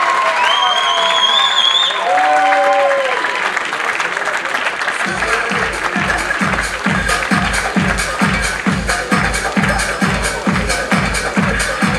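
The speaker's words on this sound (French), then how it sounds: "Donc, on les applaudit" A theatre audience at the end of a Fame show bursts into sustained applause with rhythmic clapping and crowd noise, loud and steady, after a short stretch of whistles and voices.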